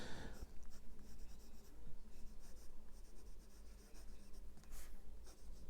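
A Platinum Procyon Citron Yellow fountain pen with a medium nib scratches softly across paper in quiet, continuous strokes, faint and close.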